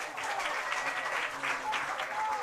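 Spectators applaud at a boys' high school soccer match between Eudora Cardinals and Tonganoxie Chieftains, a brief moderate patter of clapping from the stands.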